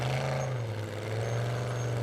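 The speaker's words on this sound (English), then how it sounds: "the car still sounds a bit like it's misfiring" Formula Offroad buggy engine at an Icelandic off-road competition in Egilsstadir, with a steady, loud, droning motor note and strong low harmonics running continuously, no talk.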